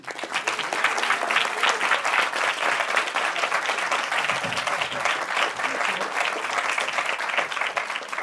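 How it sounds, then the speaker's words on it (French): A festival audience at a genre film festival applauds the actors of a film, steady dense clapping filling the whole stretch at close, even loudness. "Je vous invite à les applaudir"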